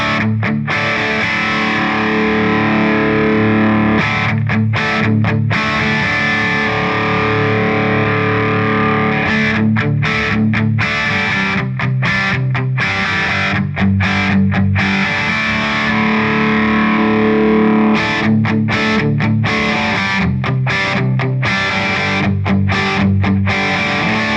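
Heavily distorted electric guitar played through a Boss Katana Artist MkII amp with cab resonance, chugging riffs broken by short rhythmic stops, loud and close with a thick, resonant body.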